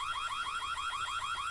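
Alarm sounding in a video game, a rapid warbling siren that rises and falls repeatedly in a fast, steady cycle, loud and continuous with no talk.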